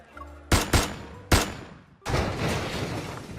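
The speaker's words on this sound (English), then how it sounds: "Suddenly, several gunshots ring out, piercing my eardrums." Gunfire in the Love & DeepSpace video game: a quick pair of sharp shots, a third shot moments later, then a longer burst of rattling fire trailing off, with nothing else heard around them.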